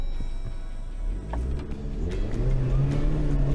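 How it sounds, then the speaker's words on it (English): A 4x4 engine revs steadily in low-range gear while driving on sand on Moreton Island, a continuous low mechanical drone that builds slightly louder toward the end, with no talk over it. "Hear the engine revving?"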